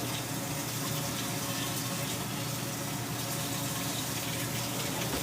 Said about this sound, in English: I'm going to rinse that pan out actually